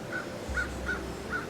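A single bird gives four harsh caws, evenly spaced and moderately distant, over a quiet outdoor background.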